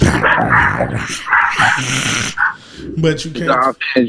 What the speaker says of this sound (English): I got to excuse the dog in the background.